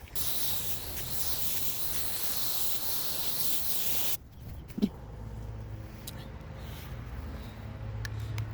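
A steady broadband spray of water rinsing an outdoor air conditioner unit hisses continuously, then cuts off abruptly midway, leaving a quieter room tone with a brief knock and low rumble.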